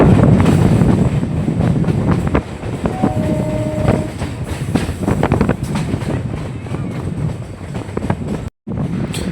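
A Kolkata Circular Railway commuter train runs on the rails out of Sealdah, heard from on board with a steady rumble and clickety-clack, a brief tonal horn-like note, wind buffeting the microphone and a short dropout near the end.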